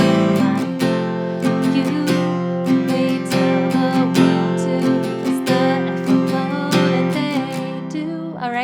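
Rhythmic strummed acoustic guitar chords from the chorus of a song ring steadily while a voice sings over them, close and moderately loud.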